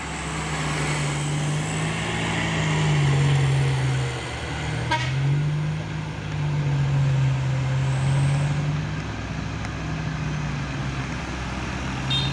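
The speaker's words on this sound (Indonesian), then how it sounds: "unit truk trailer melewati tanjakan Bukit Kodok di sore hari." Heavy truck trailer engine droning as it labors uphill on Bukit Kodok, steady low rumble with slight pitch shifts, a brief air hiss partway through, no talk.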